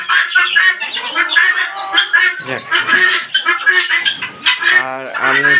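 Desi chickens, including a half-grown chick moving between its cage and its mother, cluck and chirp loudly up close. Repeated squawks and clucks overlap throughout.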